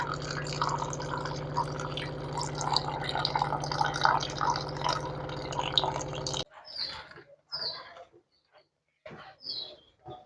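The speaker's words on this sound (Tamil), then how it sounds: "கிழங்கெல்லாம் சட்டிக்குள்ளே போட்டு தண்ணி ஊற்றி வேக வச்சு எடுத்துக்கிடுவோம்." Water is poured into a cooking pot of tubers as a continuous splashing stream for about six seconds, then stops, leaving a few scattered close drips and trickles in near quiet.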